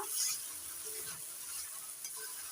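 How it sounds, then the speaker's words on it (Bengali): A ground paste of cumin, coriander, chilli and ginger fries in a pan for a vegetarian pointed gourd korma, giving a soft, steady sizzle with light stirring, close but quiet. "সেই বাটাটা দিয়ে দিচ্ছি। এবার কষিয়ে নিচ্ছি একটু।"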